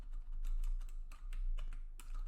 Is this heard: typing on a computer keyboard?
yes